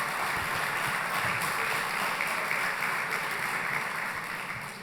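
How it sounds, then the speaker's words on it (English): Audience applause at a civics bee held at the Nixon Library, steady dense clapping from a crowd lasting about five seconds and tapering slightly at the end, with no talk over it. "Let's give her a round of applause."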